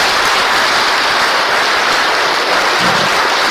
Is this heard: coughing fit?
no